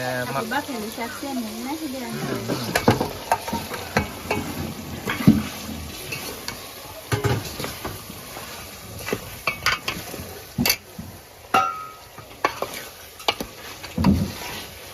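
Mutton pieces frying and being stirred in a pot of spiced gravy, wet sizzling with repeated clattering spoon scrapes and knocks against the pot, with talking in the background.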